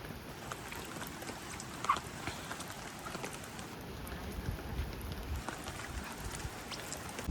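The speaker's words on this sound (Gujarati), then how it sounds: "વરસાદ બી આવે છે" Rain falls in a village as a soft, steady patter on surfaces, faint and continuous with a few louder drops, without voices.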